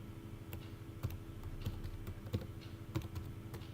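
An email address is typed on a computer keyboard in a quiet room, with soft, irregular keystrokes tapping along under a low hum.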